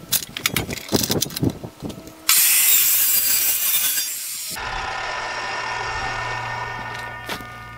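A hand saw cuts through a 2x3 wood scrap in steady back-and-forth rasping strokes, close and fairly quiet, followed by a brighter, smoother stretch of cutting and then a softer, steady hum.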